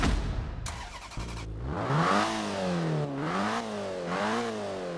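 A 1975 Citroen DS 23 engine in Forza Horizon 4 cranks and catches, then revs up and down several times with a raspy, buzzy tone, close and loud with no talking.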